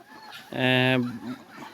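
Free-range desi chickens eat rice outdoors, and a loud, drawn-out cluck rises sharply over faint background chatter, followed by a softer trailing call.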